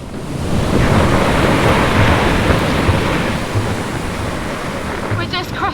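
Ocean surf rolling in with the incoming tide on the Skeleton Coast beach, a loud, continuous roaring wash of breaking waves with heavy wind rumble across the microphone.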